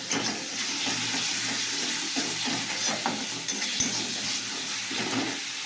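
Oil sizzles and spatters steadily in a pan as vegetables fry, a dense continuous crackle close by with faint stirring and utensil scrapes, no voices.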